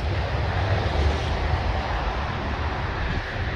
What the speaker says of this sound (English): It's quite windy, isn't it?